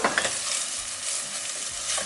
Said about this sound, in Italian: Stiamo aggiungendo quindi le verdure al burro che si è sciolto